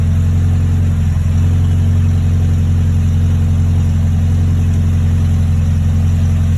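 A 2002 Acura RSX Type S engine idles steadily after an idle-surging fault, a loud, even low hum with no rise or fall in speed throughout, close to the microphone.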